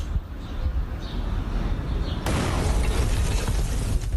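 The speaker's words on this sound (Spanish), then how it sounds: "Fíjate lo que es esa explosión." After a quiet stretch, a house in a gated community in Chascomús, Argentina explodes suddenly, followed by a sustained crackling, rumbling wash of debris and noise.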